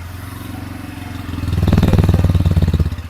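A Bajaj Pulsar N125 motorcycle engine cranks on the electric starter and catches, then settles into a steady, loud putter with a rhythmic pulse. No one speaks.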